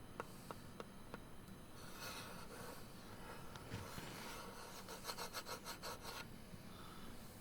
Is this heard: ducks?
no